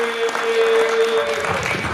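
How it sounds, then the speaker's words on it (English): An audience claps for a comedian at a free comedy show at the Lyons VA hospital, with steady, moderately loud applause and a faint voice underneath. "Everybody start clapping for our first comedian."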